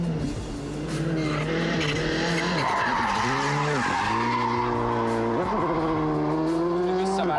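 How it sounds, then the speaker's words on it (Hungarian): A Skoda Fabia R5 rally car slides with loud squealing tires while its engine note rises and dips sharply through repeated downshifts, a continuous close, aggressive roar. "Az a jó hír, hogy visszavált csúszás közben és kihúzza onnan."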